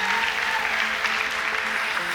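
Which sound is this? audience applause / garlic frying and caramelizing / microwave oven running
audience applause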